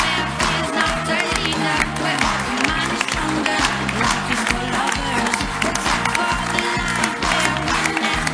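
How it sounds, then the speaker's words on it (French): A crowd applauds and cheers at an ecological political campaign launch, a loud, continuous wash of clapping under dense, steady amplified sound for the whole stretch. "vous pouvez continuer à applaudir"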